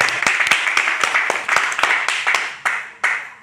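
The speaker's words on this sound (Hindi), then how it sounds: "जोरदार तालियां उनके लिए" Loud applause at a network marketing event, rising in bursts with sharp individual claps standing out, honoring achievers and a bride.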